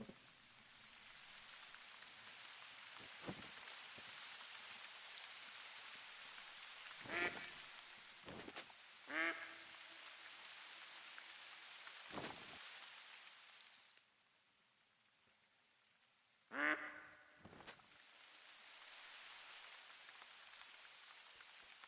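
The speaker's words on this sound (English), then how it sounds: "Is that the duck I'm hearing?" Duck quacking inside the hunting video game TheHunter: Call of the Wild, a few short separate calls over steady rain-like ambient noise, moderately close with quiet gaps between them.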